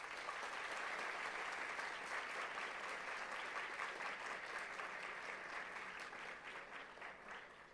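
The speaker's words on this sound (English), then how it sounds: "A round of applause for him." Conference audience at a national finance event applauds steadily, many hands clapping in a dense, fairly distant wash that holds for several seconds and eases slightly toward the end.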